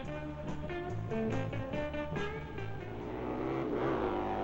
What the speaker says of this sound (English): Keith Mashburn getting a bump start before going out for practice